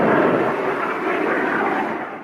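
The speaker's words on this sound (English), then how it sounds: "Oh, realistic plane." An airplane passes in a video game, a broad continuous roar of engine and rushing air, loud and steady before fading slightly at the end.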